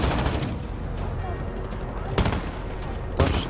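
Bursts of gunfire in a Call of Duty Plunder match, sharp cracks at about two and three seconds over a dense, noisy battle background with rumbling low end, mixed under faint game ambience.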